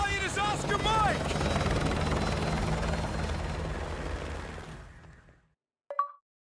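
A helicopter in the Call of Duty: Modern Warfare campaign roars with loud, close rotor noise that gradually fades out, followed by a brief short sound after a moment of silence.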